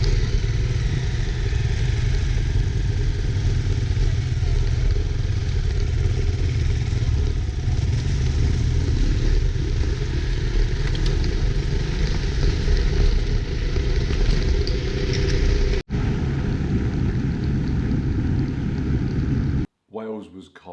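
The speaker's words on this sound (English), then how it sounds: "The plan now is to ride the bike and test it at speed" A motorcycle ridden at speed on cold Welsh roads, steady broadband engine and wind roar throughout, loud and continuous, briefly cutting out near the end.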